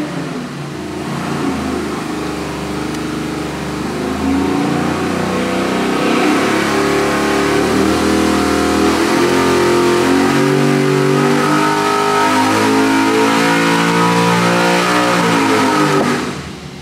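A 441 cubic inch LS3 V8 with 12.0:1 compression running on pump gas on a dyno, rising from a steady idle into a loud sustained pull toward 7000 RPM, then abruptly cutting back at the end.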